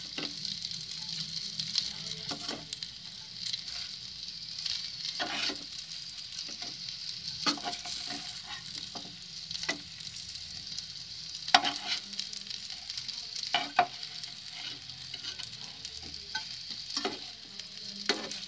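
A wheat flour breakfast snack roasts in a pan over a very low flame, giving a steady soft sizzle with occasional stirring scrapes and light taps throughout.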